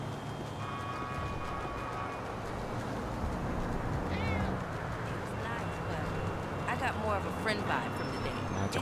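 Cat in GTA 5 via an animals mod lets out a few clear meows, clustered late, over constant game ambience and ongoing talk.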